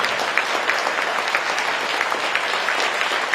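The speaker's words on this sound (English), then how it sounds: "give our president a big round of applause" A crowd at a foreign ministry new year gala applauds the president of Taiwan, a thick, even roar of many hands clapping throughout, with no speech over it.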